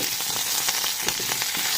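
Curry leaves and dried red chillies crackle in hot oil, a dense, loud, close sizzle with quick popping bursts, cooked for an Egg 65 dish, with no voices.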